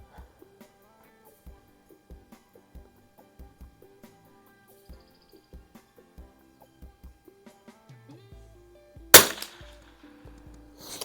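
1937 Remington model 41-P bolt-action .22 LR target rifle fired at 50 yards: a single sharp, loud crack near the end, preceded by quiet, faint plinking tones in the background.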